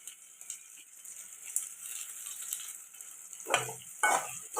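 Vegetables sautéing for a dried fish curry sizzle steadily in a pan, with scraping stirs and clinks of a spatula toward the end, no voices.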